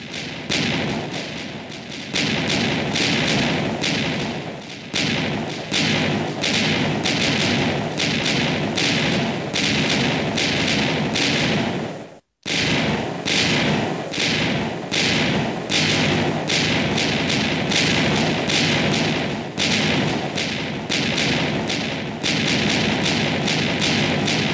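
TNT blocks explode one after another in Minecraft, a dense, loud series of rapid booming thuds that runs almost continuously, broken only by one brief silent gap.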